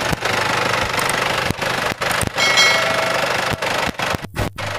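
A 2002 Isuzu Panther 2.5 diesel pickup idles close by with a steady, clattering knock, broken by a few brief dips and thumps toward the end.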